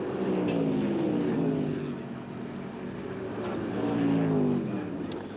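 A 1978 Formula 5000 race car circles the Sandown circuit in Australia, its engine a steady droning roar that swells and fades slightly as it passes, heard from a distance with faint commentary beneath.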